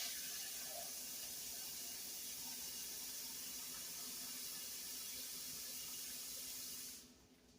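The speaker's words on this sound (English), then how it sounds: "you want to add enough water to come up to the top of the rack." Tap water runs steadily into a cooking pot while preparing corned beef, a continuous broadband hiss and splash heard close up that stops abruptly near the end.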